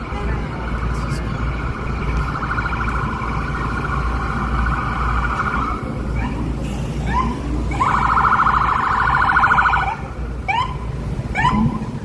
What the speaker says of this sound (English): Oh, ambulance is coming.